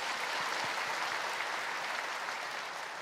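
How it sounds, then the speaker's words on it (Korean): Warm, sustained applause from a church congregation at a Friday evening service at Yoido Full Gospel Church, thanking the Gethsemane choir; dense, even clapping fills the whole stretch without any voices. "귀한 찬양으로 은혜를 주신 우리 겟세마네 찬양대에게 뜨거운 감사의 박수 한번 주시기 바랍니다"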